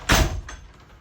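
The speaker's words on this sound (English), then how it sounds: "classically, RV door, there we go, it's closed" Camper RV door closing with one solid thunk up close, followed by a fainter secondary knock and a fading rattle.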